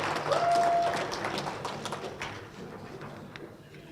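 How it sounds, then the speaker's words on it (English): Audience applause for auction contestants at an auctioneers and ringmen championship, a dense steady wash of clapping that swells early and slowly thins over four seconds, with no talk over it. "You can give them a round of applause"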